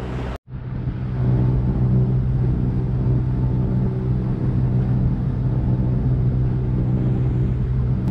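A sailboat's engine runs steadily while motor sailing at about 2 knots, a continuous low rumbling drone that holds close and loud after a brief cut near the start, with no voices.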